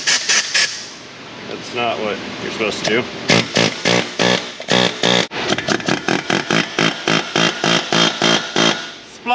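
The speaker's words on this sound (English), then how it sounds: "Okay, air hammer coming in." After a brief spoken remark, a pneumatic air hammer rattles in loud, rapid bursts close by, hammering repeatedly in short rhythmic pulses while freeing stuck axles on a Ram 1500 truck.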